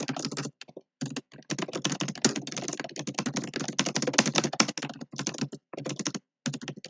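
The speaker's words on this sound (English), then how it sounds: "Intense typing." Rapid, intense typing on a computer keyboard during a competitive programming session, a dense continuous clatter of keystrokes with a few brief pauses, close and fairly loud with no talking.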